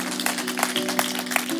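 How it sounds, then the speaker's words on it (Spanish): A group applauding the Lord during a church service: a steady wash of many hands clapping, moderately loud and even throughout, with no talking. "De un gran aplauso al Señor"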